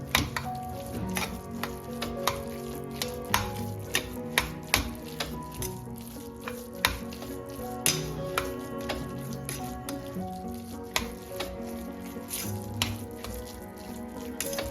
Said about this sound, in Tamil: நெய் ஊற்றி நம்ம இது கூட அப்படியே மிக்ஸ் பண்ணுறோம்